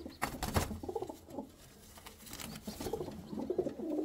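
Several Andhra pigeons coo softly in a loft, overlapping low throaty rolling calls with a few brief wing flutters, close and quiet with no talking.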